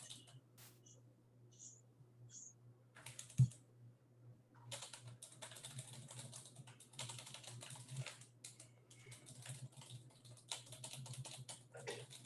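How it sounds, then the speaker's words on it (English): A loud computer keyboard being typed on rapidly, bursts of quick clacking keystrokes with short pauses between runs, faint and a little distant throughout. "Is that you, Dustin, typing like a madman? Yeah, sorry. It's just a really loud keyboard."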